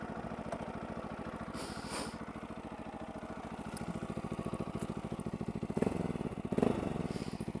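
Husqvarna 701 single-cylinder motorcycle idling, a steady, even low thumping pulse that stays moderately quiet and close, with a few faint clicks and rustles over it.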